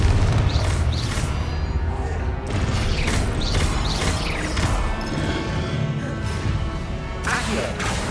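Confringo fire-spell blasts in the Hogwarts Legacy video game on Xbox Series X, loud repeated booms and crashes over dense battle noise and mechanical clatter, with a voice shouting spell names over them.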